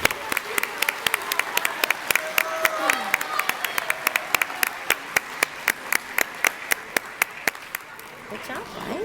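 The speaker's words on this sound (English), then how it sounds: "Please join me in giving them a nice round of applause." Audience applause at an 8th-grade school awards program: dense, steady clapping from a crowd, thinning into scattered individual claps toward the end.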